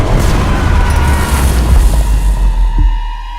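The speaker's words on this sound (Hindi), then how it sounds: "और कहा जाता है बसिलिका के साथ साथ इसे बनाने वाला इंजीनियर ओरबन भी इसके फटने से फौत हो गया" A deep, heavy boom, the explosive bursting of the giant Basilica cannon, rumbles loud and close and slowly fades over a few seconds, with no voices.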